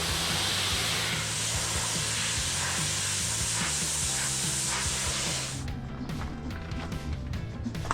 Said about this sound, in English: I sprayed down the underside of the vehicle, the transfer case, and the inner windshield wiper cowl